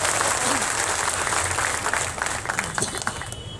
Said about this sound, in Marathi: सगळे टाळ्या वाजवतात, जल्लोष करतात